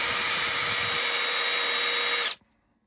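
A power tool polishing a Baker N1 shift drum for a four-speed gearbox, a loud, steady high whine held for about two seconds before it cuts off abruptly into near silence.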